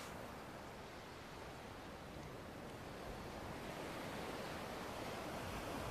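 Ocean waves wash onto a shore in the video game Kingdom Hearts Missing-Link, a continuous broad surf roar that swells gently and holds steady with no voices.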